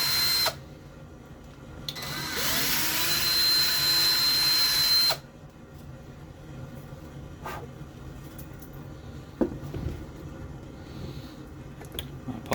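A power drill whines loudly for a few seconds while drilling a hole in a snare drum, stops, then faint clicks and handling knocks follow in a quiet room.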